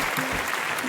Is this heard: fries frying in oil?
no